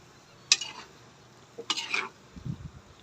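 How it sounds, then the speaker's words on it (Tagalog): Adobo is being stirred in a pan, giving two short scraping, clattering strokes about a second apart, followed by a soft low shuffle, all fairly quiet. "Haluin natin uli."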